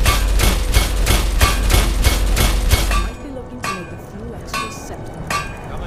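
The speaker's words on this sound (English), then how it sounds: "Metal hammer." Metal hammer blows ring out at a smithing forge in the Skyrim video game, a fast, even run of loud, close clanging strikes, then a few sparser hits with quieter gaps.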